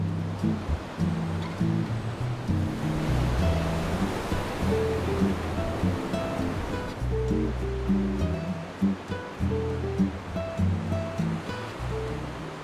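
Ocean surf on a wide sandy surfing beach at Santa Barbara, São Miguel in the Azores, a steady loud wash of breaking waves with rolling swells and a low rumble, no voices.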